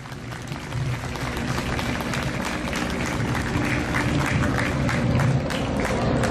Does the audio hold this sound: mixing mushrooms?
no